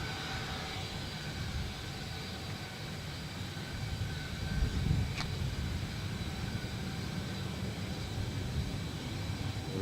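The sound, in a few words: aircraft at Adelaide Airport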